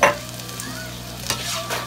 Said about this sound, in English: now we're going to add the sauce